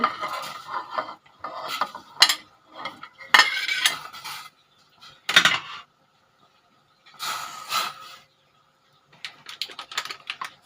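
Boiled bamboo shoots and luffa go into a curry pot, with intermittent clinks of utensil against pot and stirring scrapes in short bursts separated by quiet pauses.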